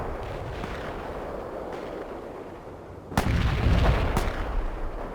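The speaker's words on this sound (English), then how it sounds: "Mortars will fire at the provided coordinates." Mortar artillery fire in a military video game booms out in a couple of heavy thuds over a constant rumbling battlefield background, with a loud impact followed by lingering low noise.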